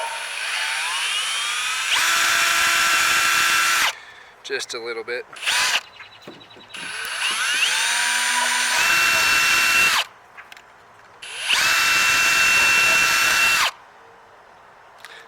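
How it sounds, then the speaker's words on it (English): A power drill whines loudly in three long bursts, boring holes in an Ascend 12T kayak, with short pauses of clattering handling noise and a brief spoken remark between them. "So we just gotta drill out these holes"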